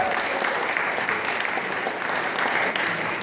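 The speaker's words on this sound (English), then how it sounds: "So we should definitely give those guys a cheer." A hackathon showcase audience breaks into sustained applause and cheering, a dense, steady roar of clapping that holds evenly from start to finish.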